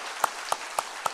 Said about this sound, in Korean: 우리 뜨거운 박수로 환영하겠습니다.